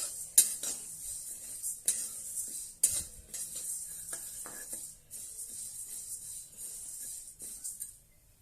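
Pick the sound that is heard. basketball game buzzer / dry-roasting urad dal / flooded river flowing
dry-roasting urad dal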